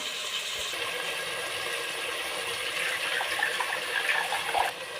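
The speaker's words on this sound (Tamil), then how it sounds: "இப்போ வந்து நம்ம புளியை நல்லா கரைச்சிக்கலாம்" Tamarind is squeezed and dissolved by hand in a bowl of water while cooking a stingray fish curry, a continuous close watery swishing and sloshing that gets a little busier toward the end.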